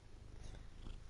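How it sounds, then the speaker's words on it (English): A cat purring close to the microphone makes a soft, continuous low rumble. "if you hear any kind of rumbling, that is our cat purring."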